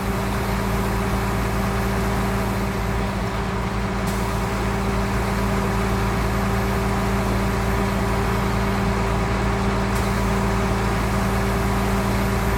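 A tractor pulling a baler in Farming Simulator 2019, a steady loud engine drone with constant tonal hum and no pauses, running on alone without talk.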